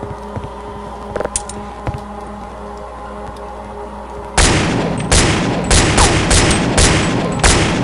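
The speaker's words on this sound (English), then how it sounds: "Do you have to shoot that so many times?" Repeated gunfire in a modded video game: after a few quiet ticks and clicks, a loud, rapid string of shots erupts and keeps going in uneven bursts, near and harsh.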